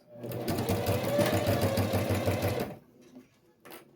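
A sewing machine stitches bias binding onto a Bob Goods-style pencil case in one continuous loud whirring run of rapid needle strokes, then stops abruptly. A short quiet pause follows, broken by a brief faint clack near the end.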